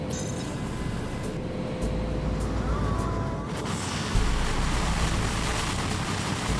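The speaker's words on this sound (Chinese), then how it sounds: "飞机启动喽，有点吵哦。" A small skydiving aircraft's engine starts up and settles into a steady, loud, broadband roar and rumble that fills the whole stretch, with no talk over it.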